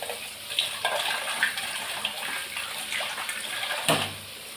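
Water is poured into a cooking pot for a vegetable curry, making a continuous close splashing gush with a few brief clinks and a louder splash near the end.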